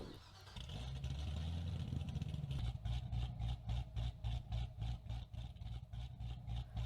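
Ferrari engine in the Driving Empire video game: a steady low idle for the first few seconds, then a rapid pulsing rev pattern with rhythmic bursts, loud and alone.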